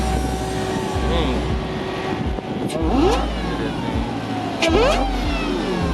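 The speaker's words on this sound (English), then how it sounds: "Hear that supercharger whine on that thing." A McLaren 570S sports car engine idles and revs with a high supercharger whine rising over it at a car meet, while people talk nearby and occasional sharp mechanical squeals cut through.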